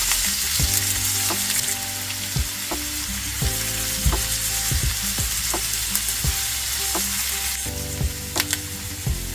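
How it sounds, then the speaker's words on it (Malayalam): Sliced shallots fry in a pan for Kerala inji puli. A steady, close sizzle runs throughout, broken by frequent scraping and clinking strokes as they are stirred. "ഇനി നമുക്ക് അരിഞ്ഞു വെച്ചിരിക്കുന്ന ചെറിയുള്ളി ചേർത്ത് കൊടുക്കാം. എല്ലാം കൂടെ നന്നായിട്ടൊന്ന് ഇളക്കി മിക്സ് ചെയ്ത് കൊടുക്കാം."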